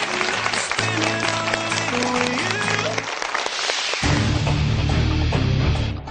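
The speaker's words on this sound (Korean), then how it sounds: "아쉽게 탈락한 제주 중앙여고에게 위로의 박수 부탁드립니다." Consoling applause from a studio audience at a Korean high school quiz show for an eliminated girls' high school team, broad clapping layered under loud music and announcer-style sound that swells near the end.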